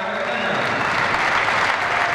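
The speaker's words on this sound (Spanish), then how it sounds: "siendo recibida esta con un calurosísimo aplauso" A crowd gives an uninterrupted, full, enthusiastic burst of applause to welcome a performing group in Montevideo, dense and loud from start to finish.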